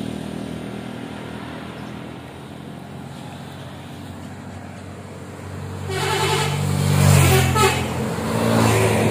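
A Gapuraning Rahayu bus on route R183 from Kalideres to Kaunganten sounds its horn as a greeting, a loud multi-tone blast rising over steady engine and road rumble and lasting a few seconds near the end.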